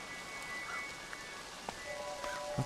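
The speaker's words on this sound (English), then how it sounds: "Okay, really rainy now." Steady rain hisses faintly in the video game Crow Country, a soft continuous wash with a few scattered drip-like taps and no voices.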